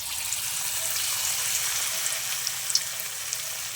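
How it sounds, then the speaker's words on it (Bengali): Fish-oil pakora fries in hot oil with a steady, dense hiss, dotted with faint small pops and crackles. "দেখো আমার মা মাছের তেলের পকোড়া ভেজে নিচ্ছে"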